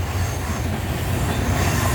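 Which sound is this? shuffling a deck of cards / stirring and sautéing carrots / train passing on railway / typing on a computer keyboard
train passing on railway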